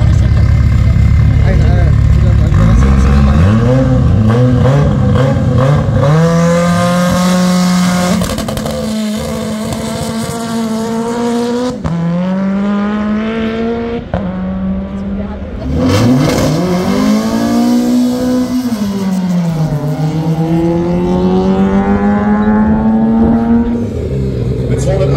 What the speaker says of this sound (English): Sein Gegner im Fiat 500 ist der Michael Henecke, 186 Turbo PS aus dem 1,